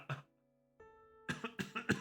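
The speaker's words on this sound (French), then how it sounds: "Je dis, oh putain, ça va tousser." A man coughs in a short burst, then after a brief pause a tonal hum is followed by a rapid run of rough coughs and throat clearing, close and fairly loud.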